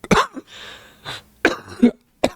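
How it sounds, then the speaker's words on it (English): Several sharp, harsh coughs close to the mic, spaced irregularly with short pauses and breaths between them. "I might cough a lot"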